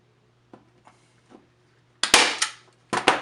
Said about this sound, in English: Take our staple gun here. Put me a staple in two spots.